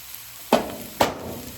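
Green onions tossed into a hot pan for Brussels sprouts, two sharp sizzling bursts about half a second apart over a faint background hiss.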